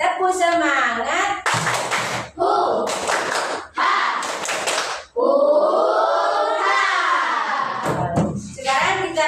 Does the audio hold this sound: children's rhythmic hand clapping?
yes